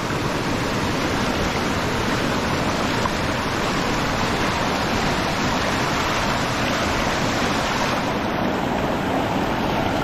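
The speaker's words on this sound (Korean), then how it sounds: "물소리 좋은데" Rushing water of a mountain valley stream at Sanasa Valley, Yangpyeong, South Korea, flows loudly and continuously, a dense steady wash of a fast stream close by, with no voices.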